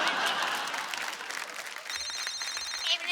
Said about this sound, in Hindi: फोन आया भाई, बताओ फोन आया।